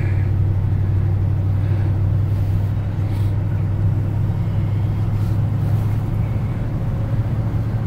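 A Ford F100 Ranger truck engine pulls in second gear, making a loud, steady low rumble that drones evenly close by with no talk.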